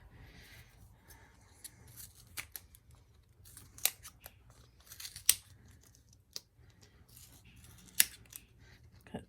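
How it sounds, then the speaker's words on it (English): Scissors cut small pieces of foam tape, producing faint, close, sharp snips scattered irregularly over a quiet background. "So I'm just going to cut my foam tape here."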